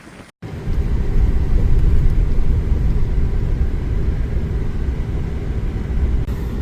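Four-wheel drive vehicle driving to a yard after a holiday snowstorm: a steady, loud low engine and road rumble that begins after a brief cut and continues unbroken throughout, with no voices.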